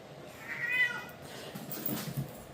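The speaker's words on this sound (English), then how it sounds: "It's crazy kitty cat time." A cat meows once, a clear, fairly close call in the first half, followed by softer, quieter rustling noises with no talking.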